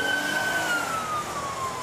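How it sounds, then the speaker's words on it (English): A police car siren on a rural road posted at 55 miles per hour, a steady high wailing tone that slowly falls in pitch over the full stretch, moderately loud over a constant background wash of traffic. "siren"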